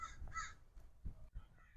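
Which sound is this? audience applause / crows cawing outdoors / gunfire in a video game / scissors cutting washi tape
crows cawing outdoors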